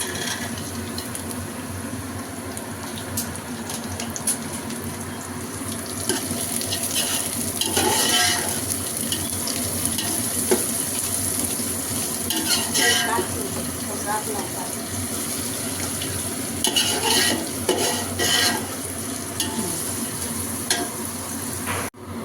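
Carrots and beans sizzle and fry steadily in a hot pan, with occasional stirring scrapes throughout; a voice speaks now and then over the cooking.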